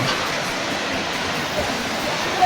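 Steady broadband rush of water pouring down at the Mabato river, a continuous close roar with no breaks and no voices over it.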